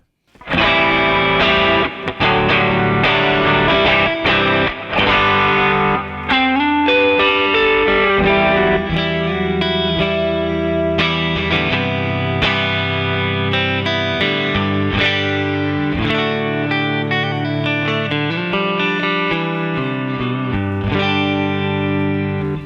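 A 1968 Fender Twin Reverb guitar amp tone rendered through a Helix HX with tone-matched impulse responses, a bright, driven electric guitar playing chords and lines continuously and loudly, alone.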